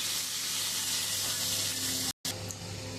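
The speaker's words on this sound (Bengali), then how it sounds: "আমার মাছ ভাজা হয়ে গেছে, হালকা করে একটু ভেজে নিলাম" A steady, hissing sizzle of koi fish frying in hot oil, continuous and close, with a brief cut near the end.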